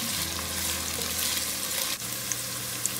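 Onions and green chillies sizzle steadily in hot oil for a Nepali chicken curry, a dense continuous frying hiss with soft stirring scrapes and a brief dip partway through, close and without talk.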